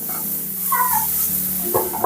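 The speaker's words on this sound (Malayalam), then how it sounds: "ഇത് മസാല നല്ലതുപോലെ ഒന്ന് വഴറ്റിയെടുക്കുന്നുണ്ട് കേട്ടോ." Masala being sautéed for a prawn roast sizzles steadily up close, with short higher cat-like cries rising over the hiss.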